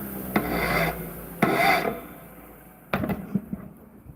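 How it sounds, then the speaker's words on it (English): Metal being worked by hand while forging a simple ring, heard as three bursts of coarse rasping, near and fairly loud, with short pauses between them. "grinding"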